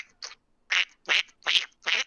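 A man imitates a duck, giving five nasal quacks in a loose, uneven rhythm, close and fairly loud, with nothing else heard around them.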